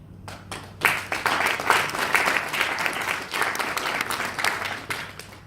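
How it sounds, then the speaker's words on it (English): An audience breaks into sustained applause after a few scattered claps, a dense, moderately loud wash of clapping that continues steadily throughout. "You deserve a round of applause for that."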